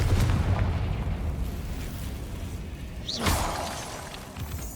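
A Confringo fire spell is cast in Hogwarts Legacy, a booming blast with a crackling burst about two-thirds of the way in, set against a dull rumbling game ambience.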